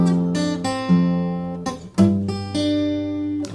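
Fingerstyle acoustic guitar picking a melody with a bass line, each note struck cleanly and ringing on, played alone and close with steady, even loudness.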